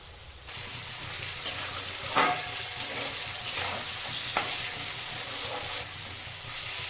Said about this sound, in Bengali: আলুগুলো পেঁয়াজের সঙ্গে ভেজে নিচ্ছি